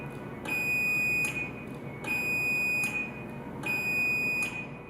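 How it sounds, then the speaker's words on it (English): Three evenly spaced electronic beeps from a LiftMaster 8500W wall mount garage door opener sound loud and close, each a sustained high tone lasting under a second, with no talking. "The opener beeps and lights flash slowly 5 times."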